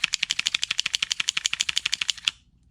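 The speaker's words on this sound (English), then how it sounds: "then you rack it a whole bunch, and that's going to get the oil kind of around the whole nozzle" Slide of an Action Army AAP-01 gas blowback airsoft pistol racked rapidly about two dozen times, producing an even stream of sharp, close, metallic clacks that stops abruptly, with no talking.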